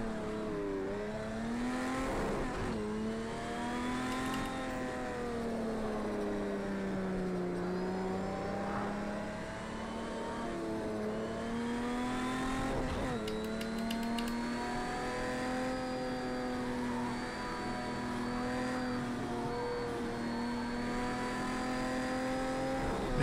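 Race car engine revving in the sim racing game Project CARS 2, a steady loud high-pitched whine that rises and falls through gear changes for the whole stretch, with no talk over it.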